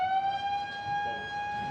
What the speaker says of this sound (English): I might hit the shark alarm here.